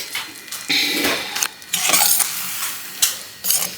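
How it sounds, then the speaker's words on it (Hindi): Dal being stirred and thinned in a pressure cooker pot, with a spoon scraping and clinking against the metal in uneven bursts, fairly close and steady, no voices. "इसी कुकर में मैं चावल चढ़ा रही हूँ, थोड़ी सी दाल को पतला कर देंगे।"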